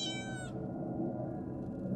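A kitten meows in the horror video game Kittens of Fear, one short harmonic meow at the start, then a steady low game ambience drone continues alone.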